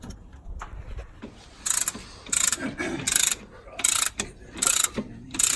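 A ratchet tightens the timing belt tensioner on an RB25DET engine. Rapid clicking bursts repeat in an uneven rhythm, loud and close, with quieter handling noises between the pulls.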